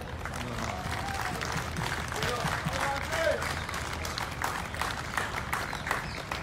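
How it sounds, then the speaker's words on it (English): An outdoor rally crowd at Iolani Palace claps and cheers for a speaker, sustained applause with murmuring voices mixed in throughout. "Big round of applause, brother Andre Perez."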